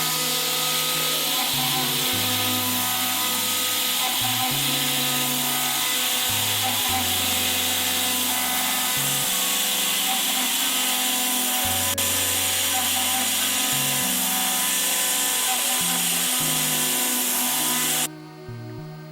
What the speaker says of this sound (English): We cut the pattern out of a sheet of plastic using a computer-controlled milling machine.